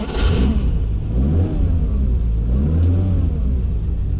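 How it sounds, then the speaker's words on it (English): Ferrari 365 GTC4 engine and exhaust heard from inside while driving, a loud steady rumble with rising and falling revs as the car accelerates. "We're gonna take it out for a drive, and you get to ride along."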